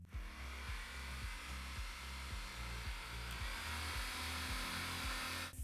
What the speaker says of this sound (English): The heat gun started, but apparently its power is a bit less than 2 kWh.